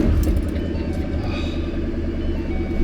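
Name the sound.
Ford Shelby GT500 engine idling after cold start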